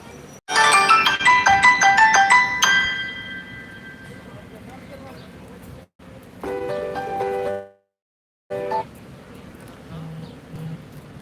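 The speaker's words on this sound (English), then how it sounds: "Someone tried to phone me." A phone rings with an incoming call, a loud bright melodic ringtone of rapid repeated notes at first, then shorter bursts broken by abrupt cut-offs and silence.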